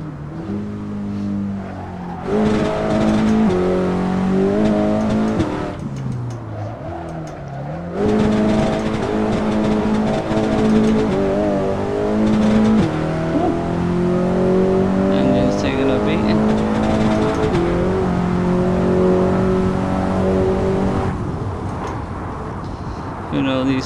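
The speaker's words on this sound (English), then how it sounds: "Yeah, that's it in the limiter" A tuned Honda Civic Type-R FK8 howls on its rev limiter during an Assetto Corsa track day, a loud, steady buzzing engine drone with stuttering limiter cuts and brief shift dips, while a voice talks over it.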